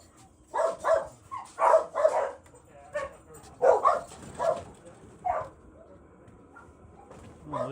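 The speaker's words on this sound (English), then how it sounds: "we hear the dogs barking." Several dogs barking in short bursts around an animal shelter or home yard, fairly close, with a few whimpers and yips between barks and a quiet stretch toward the end.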